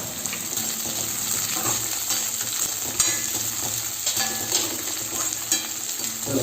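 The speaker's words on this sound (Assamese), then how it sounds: "সেইখিনি আকৌ এবাৰ ভাজি ল'ম পিঁয়াজ জলকীয়া দি" Fish pieces fry in hot oil with onion and chili, a close, continuous crackling sizzle with stirring and light scraping throughout.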